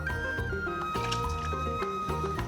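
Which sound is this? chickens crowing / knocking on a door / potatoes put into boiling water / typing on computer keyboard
potatoes put into boiling water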